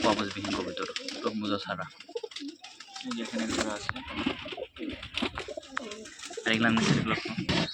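Rajshahi Giribaj pigeons coo in low, throaty bursts close by, mixed with wing flutters and clicking, while people talk over them.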